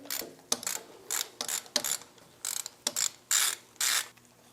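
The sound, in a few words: ratchet removing old pilot bearing, Porsche 3.2 Carrera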